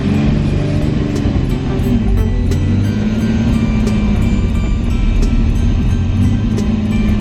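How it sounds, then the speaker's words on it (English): A Ferrari kit car engine idles high on a near-freezing day, a loud, steady low drone and hum that holds throughout without revving, close to the car. "we'll just let the car warm up now and see if the idle drops"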